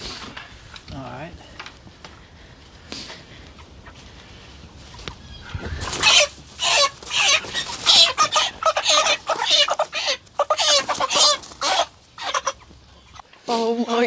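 Chickens cluck and squawk in a lively burst partway through, after a quieter stretch with scattered sounds and people talking nearby, on a farm in New Orleans.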